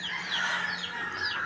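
Chickens on a cold day give a steady, continuous mix of clucking and fowl calls, fairly loud and close throughout with no talk.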